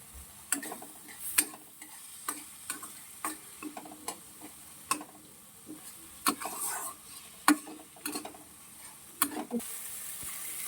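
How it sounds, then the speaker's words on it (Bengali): Peas, tomato and vegetables frying in a pan with salt and turmeric, a quiet steady sizzle broken by repeated sharp clicks and scrapes of a spatula stirring, close up with no talking. "তার সাথে মটরশুঁটিও দিয়ে দিলাম, একসাথে সব কিছু ভেজে নেব"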